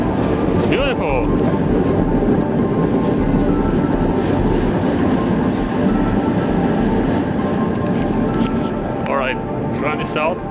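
A tram passes through an underground tram stop with a loud, continuous rumble and rattle that fills the space, and metallic wheel squeals rise near the end.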